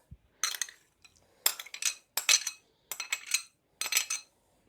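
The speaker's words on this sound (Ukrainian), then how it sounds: "Тепер висипаємо нашу кукурузку." Corn kernels poured into a salad bowl in several separate bursts of bright rattling and clinking, close and crisp, with silence between each pour.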